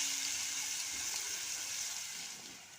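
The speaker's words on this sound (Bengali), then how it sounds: "আমি পেঁয়াজটা একটুখানি ব্রাউন করে হালকা হালকা করে ভেজে নেব" Chopped onion frying gently in oil, a soft continuous sizzle that fades slightly toward the end, with no talking.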